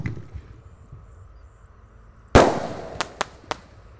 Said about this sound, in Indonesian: selanjutnya yang kita nyalakan di sini ada Bima Sakti yang ukuran 4 inci guys